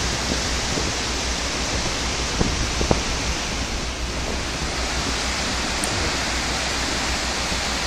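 Steady roaring rush of a waterfall, loud and continuous, with a few faint clicks and knocks over the constant white noise.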